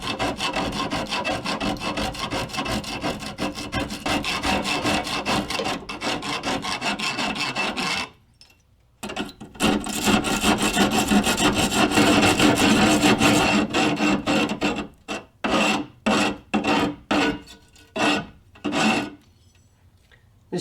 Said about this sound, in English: This rasp doesn't work too bad either.